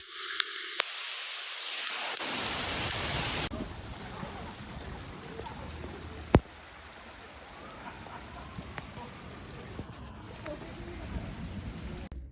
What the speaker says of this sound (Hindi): मैंने आपको बुडापेस्ट की बारिश तक दिखा दी है, ओके?